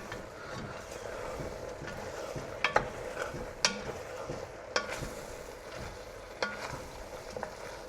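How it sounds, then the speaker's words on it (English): Onions caramelizing in a pan for French onion soup sizzle softly while a spoon stirs and scrapes the bottom with several sharp, irregular scratches over the quiet frying hiss. "I can smell some caramelization on the bottom already, so I'm going to give it a bit of a stir."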